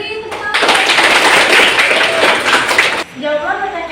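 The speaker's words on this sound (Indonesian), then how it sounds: "Diberi tepuk tangan." Applause from students in a classroom breaks out loud and dense for about two and a half seconds, then stops abruptly. Voices follow briefly after it ends.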